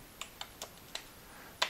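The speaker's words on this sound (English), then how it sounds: "I type verse 2." Keys on a computer keyboard are tapped one at a time in a slow, uneven run of about six soft clicks, ending on a louder, sharper strike, close by in a quiet room with no talking.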